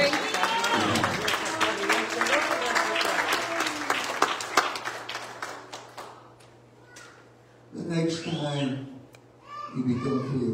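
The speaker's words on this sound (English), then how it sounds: "Will you clap your hands?" A church congregation claps their hands during a sermon, a dense patter of claps for about six seconds under a preacher's raised voice, then fading as talk continues in bursts.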